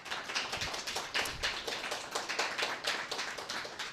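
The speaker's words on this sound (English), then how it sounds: "just a round of applause for our panel" Applause from an audience at a civic action panel event, steady rhythmic clapping of a modest crowd, dense and continuous throughout.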